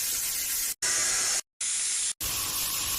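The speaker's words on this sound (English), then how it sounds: "we've got the steam that starts" AI-generated steam hiss: three loud, steady bursts of broadband hissing, each lasting under a second, separated by short silent gaps.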